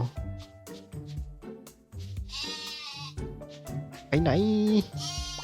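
Sheep in the video game Mini World: CREATA bleat several times, with one loud, wavering bleat standing out, while someone talks over the game sounds.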